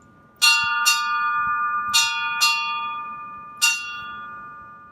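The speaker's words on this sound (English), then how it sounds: "And here is 5 bells." Five strokes ring out on a ship's bell aboard the tall ship Providence, two quick pairs followed by a single strike, each bright metallic tone ringing on and slowly decaying.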